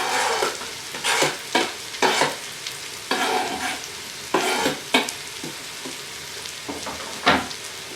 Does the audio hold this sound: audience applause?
no